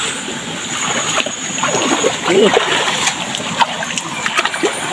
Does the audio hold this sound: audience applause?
no